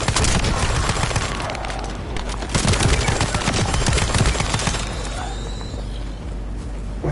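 Sustained machine gun fire in the sci-fi shooter The First Descendant, a loud, dense stream of rapid shots that pours on with barely a gap, layered over heavy game effects and rumbling background noise.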